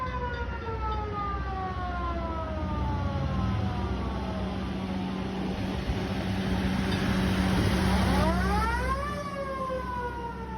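Siren of the restored vintage Appleton fire department Engine 5 driving down College Avenue, a wailing siren with rising and falling tones over a steady engine rumble, sweeping up sharply near the end before fading slightly.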